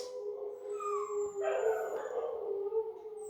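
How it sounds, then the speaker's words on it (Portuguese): Dogs barking and howling outside at night, drawn-out yelping calls rising and falling over a low steady hum, heard from indoors at moderate distance with no talk. "Já está noite, minhas meninas estão latindo, provavelmente para nada que tem lá fora."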